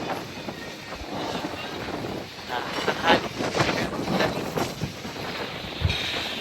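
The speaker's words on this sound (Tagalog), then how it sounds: "Ang lamig ng hangin, Tagaytay. Para ding bagyo eh." Strong, cold wind buffets the microphone in irregular gusts in Tagaytay, rising and falling in loud rushing bursts.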